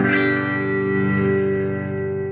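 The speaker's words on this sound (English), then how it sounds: "Still clean, but it's starting to get louder and it's breaking up a little bit." An electric guitar chord rings out through a 1964 Fender Bassman amp, full and sustained with a slightly gritty, breaking-up edge, fading gently over a couple of seconds.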